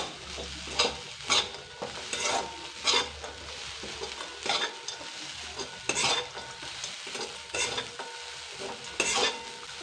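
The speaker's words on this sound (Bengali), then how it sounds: "এটা 1 মিনিটের মতো নেড়ে নেবো" Grated coconut is stirred in a pan for an evening snack, a spoon scraping in steady repeated strokes over a soft sizzle, close and moderately loud with no voices.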